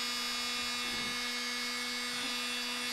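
Heat tool drying a junk journal page in a mixed-media collage session, a steady loud electric whine with a constant pitched hum, no talking.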